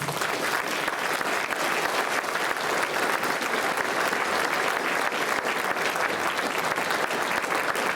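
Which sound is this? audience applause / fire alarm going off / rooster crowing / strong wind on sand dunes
audience applause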